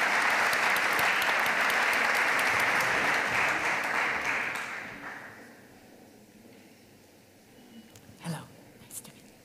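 A conference audience at an energy policy event gives a warm round of applause that lasts about five seconds and then fades, leaving quiet room noise with a couple of small knocks.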